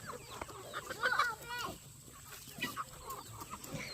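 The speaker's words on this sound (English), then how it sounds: "Let me get these chickens over here." Chickens clucking on a farm, close and fairly faint, in short bursts of scattered clucks with brief pauses between them.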